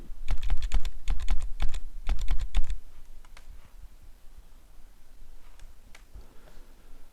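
Someone types quickly on a computer keyboard while filling in a web form: close, crisp key clicks in rapid bursts, then a few scattered taps trailing off into quiet.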